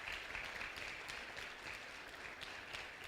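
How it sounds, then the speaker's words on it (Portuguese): A crowd claps together at a church gathering, a dense, steady round of applause holding at an even level for a few seconds with no voices over it. "Você pode dar uma salva de palmas para esse pessoal?"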